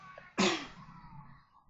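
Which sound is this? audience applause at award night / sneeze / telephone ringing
sneeze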